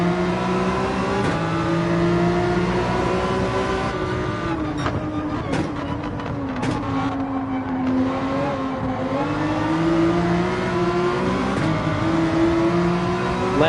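Lamborghini race car in Gran Turismo 7 at the Nürburgring, engine revving hard and climbing through gears with shifts and brief tire squeal, loud and close for the whole stretch with no talk.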